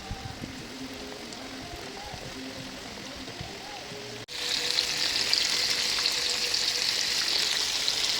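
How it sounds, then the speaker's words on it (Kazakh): Chicken fillet strips deep frying in hot oil, a steady bubbling sizzle that jumps much louder and brighter halfway through as more strips drop in, with a voice talking over the first half. "Майымызға екі жағы бірдей піскенше қуыратын боламыз."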